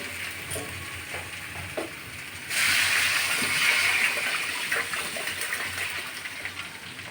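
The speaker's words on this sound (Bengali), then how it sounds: "এখন আমি ঝোলটা দিয়ে দেবো" Broth for egg curry poured into a pan that is already gently frying. A soft sizzle gives way midway to a louder, steady gushing, bubbling rush that then settles back down.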